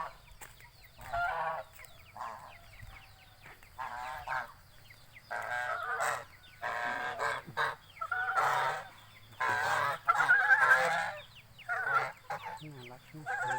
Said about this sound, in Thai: ไดโนเสาร์ ชาวน้อยนั่นก็คือห่านนั่นเอง